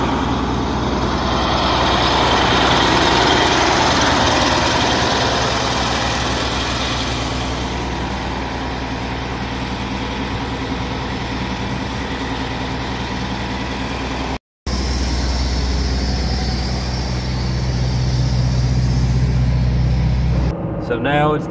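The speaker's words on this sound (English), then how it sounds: "MCI Premier bus with an 8V92 Detroit diesel, Allison automatic transmission" A 1988 MCI Premier bus with an 8V92 Detroit diesel and Allison automatic transmission runs with a steady low diesel rumble and idle throb throughout, close and loud, with a brief cut partway and people speaking over it.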